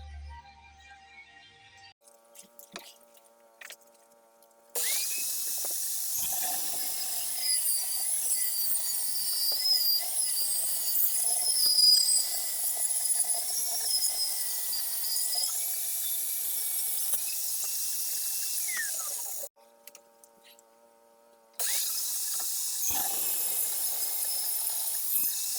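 Power tool, likely a saw, cutting wood in a guitar-building workshop, run off a generator battery; loud steady whine for about fifteen seconds, a brief stop, then the cut resumes, close by with no talk.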